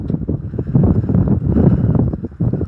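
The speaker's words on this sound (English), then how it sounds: "Very windy." Wind buffets an outdoor microphone in heavy, low rumbling gusts that surge and drop irregularly, loud and close, with no talking.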